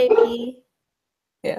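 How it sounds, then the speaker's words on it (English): A pet dog gives short barking and whimpering yips in two separate bursts, close and fairly loud, with a person briefly speaking. "Oh, that's my dog."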